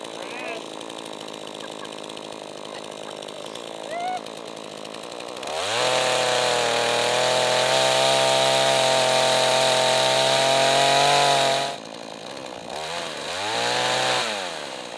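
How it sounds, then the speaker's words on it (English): Chainsaw revving hard while cutting firewood, a loud sustained engine whine for several seconds that drops abruptly back to idle, then briefly rises again; faint talk is heard around it. "You shouldn't be holding the saw without re-engaging the brake."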